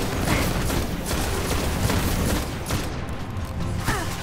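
Gunfire with heavy recoil from the Destiny: Rise of Iron video game: a steady run of loud, punchy shots thuds through dense combat noise for several seconds, then eases slightly.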